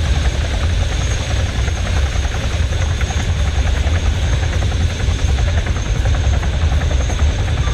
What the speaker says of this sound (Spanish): embarquen en el primer helicóptero